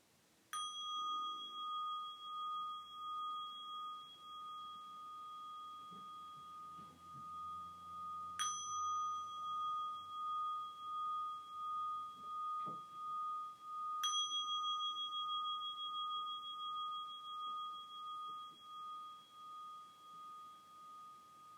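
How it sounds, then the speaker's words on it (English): Three meditation bells ring out several seconds apart, each a bright struck tone that lingers and slowly fades, over a quiet room with faint background noise. "3 bells to start"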